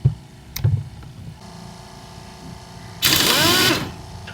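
A pneumatic impact wrench runs in one loud, hissing, buzzing burst of under a second, close by, after some soft handling clicks and knocks.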